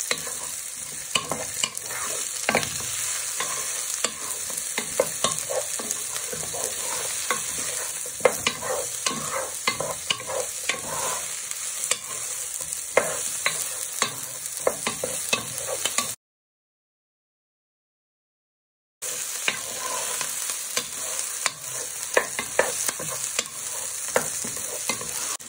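Onions, garlic and chorizo fry in a pan with a constant bright sizzle while a utensil scrapes and stirs in quick, repeated strokes, close and continuous, briefly cut to silence midway.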